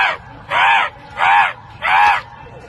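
Four loud, harsh caw-like calls sound in a slow, even rhythm, about two-thirds of a second apart, close by, with a human voice imitating crow cawing to call crows in.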